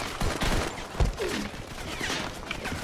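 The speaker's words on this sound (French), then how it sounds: "Ça tire en rafale." Rapid burst gunfire from a weapon in the Modern Combat 5 shooter game, with a series of sharp, loud cracks packed close together over a steady game background and no talk.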